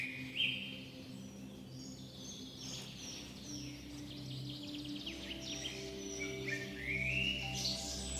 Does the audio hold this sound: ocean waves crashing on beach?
no